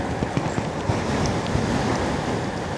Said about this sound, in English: Man, the wind came out of nowhere on this thing.